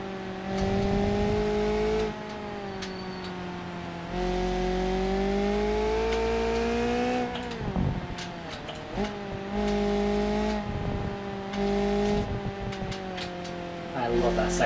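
Sim racing game race car engine, loud and steady, dropping in pitch under braking and then climbing again under acceleration, with tire noise and no talking.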